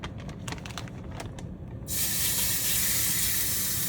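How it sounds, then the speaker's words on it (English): Pieces of deer heart hit a very hot cast iron pan and break into a loud, sustained sizzle that starts suddenly partway through, after some faint clinks and handling noises. "We got our pan nice and hot here. Now we're gonna start adding some pieces."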